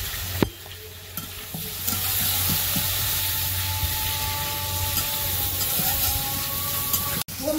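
Fish heads, pangas and hilsa, sizzle and crackle in hot oil in a village kitchen, a steady frying hiss with occasional stirring scrapes and knocks.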